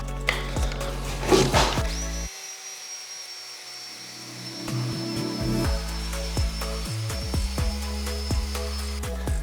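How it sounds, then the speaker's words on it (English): A wire brush scrapes across a pine board in steady, rough, close-up strokes, with a few sharp knocks and a brief thin whine, and no voices. "Pine is relatively smooth, and when you use the wire brush, it'll start to take that smoothness off and you'll get these ridges."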